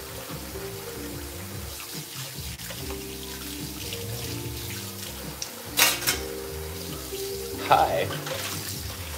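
Running water from a kitchen sink tap during cleanup after cooking sweet potato miso soup, a steady rushing flow with occasional dish clatter and a couple of sharper splashes, with a voice briefly speaking.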